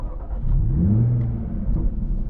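A Jaguar F-Type V6 380 engine hums nearby and rises in pitch as it revs and pulls away, a steady low rumble underneath throughout.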